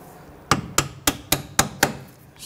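A hammer taps a bolt into the rear suspension knuckle of a 1992-1996 Toyota Camry during a strut job: six sharp, evenly spaced metallic strikes, close and loud, with a short ring after each.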